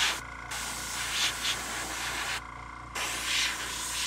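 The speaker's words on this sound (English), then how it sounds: "I think my airbrush is being finicky today." An airbrush sprays thinned paint onto a model A-10 jet, giving a close, steady hiss that briefly cuts out twice and then resumes, with no talk.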